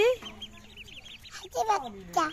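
Several high, thin peeping calls from young waterfowl, close by, mixed with a few brief human voices.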